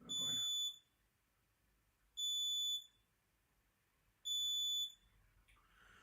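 A CO2 alarm on an AP Inspiration closed-circuit rebreather sounds three loud, high-pitched electronic beeps, evenly spaced about two seconds apart, with nothing else heard around them.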